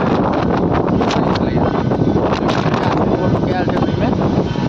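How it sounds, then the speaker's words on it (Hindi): Strong wind roars and buffets against the microphone in a constant, loud, gusty rush during a sudden storm in a village, just before rain begins. "हवा एकदम बेतरीक हवा चले, एते तगड़ा हवा चलैया"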